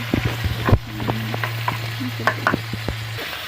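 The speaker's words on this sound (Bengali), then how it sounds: "পেঁয়াজ দিয়ে দিলাম কড়াতে আদা রসুন বাটা দিয়ে দিলাম" Onion and ginger-garlic paste frying in a wok, soft sizzling under a run of sharp, irregular spatula scrapes and taps at close range over a steady low hum, with no voice.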